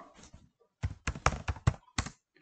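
Fingers type on a computer keyboard, a close, irregular run of about eight crisp key clicks after a few softer taps.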